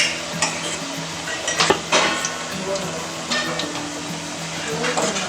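Chicken nugget pieces stirred in hot frying oil, with a steady sizzle and clinking pan and utensil knocks throughout.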